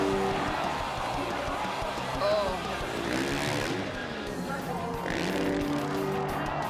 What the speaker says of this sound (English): You can hear him just revving out of that second rotation